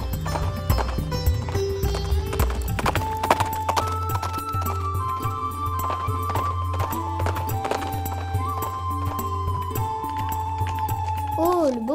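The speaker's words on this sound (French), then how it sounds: "il est parti faire un tour à cheval." Horse hooves clip-clopping at a gallop under a busy layer of music and tonal effects, with occasional whinnies, steady and fairly close throughout.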